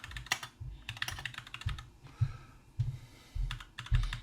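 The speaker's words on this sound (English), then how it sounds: "if I type on my Mac" Typing on a Mac computer keyboard, close and fairly loud, with bursts of rapid clicking keystrokes separated by short pauses and heavier thumps like the return key or space bar.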